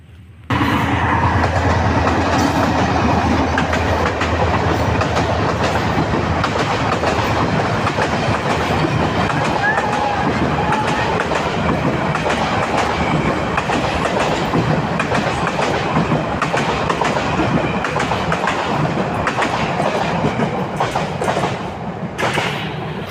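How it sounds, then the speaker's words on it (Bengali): A train passes close by on railway tracks, a loud, sustained rumble with rhythmic clickety-clack of wheels that holds steady for over twenty seconds before easing slightly. "ট্রেন আসতেছে।"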